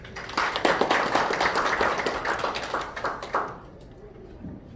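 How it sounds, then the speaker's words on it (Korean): An audience at a National Assembly welfare policy forum claps for the committee chair, a dense round of applause that thins out and stops near the end. "힘찬 박수를 보내주시기 바랍니다."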